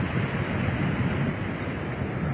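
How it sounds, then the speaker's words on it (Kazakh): Floodwater from a heavy spring downpour in Kazakhstan pours across a roadway by a highway, making a steady, loud, broadband rush of water with no voices. "Жолдың үстімен кетіп отыр су."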